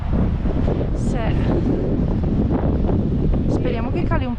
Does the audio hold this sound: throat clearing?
no